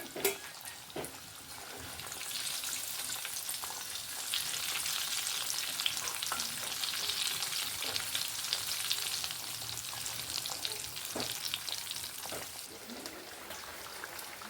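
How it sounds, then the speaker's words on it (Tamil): Fish pieces fry in hot oil in a pan for a Tamil fish curry, giving a steady, dense sizzle with faint crackles and occasional soft pops throughout. "மீன் வந்து பொரியுது"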